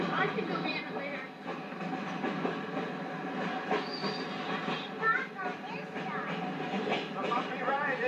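A caboose on the Chelatchie Prairie Railroad rumbles and rattles along the track on a bumpy 1990 ride to Moulton Falls, with steady wheel clatter while people talk and children chatter nearby.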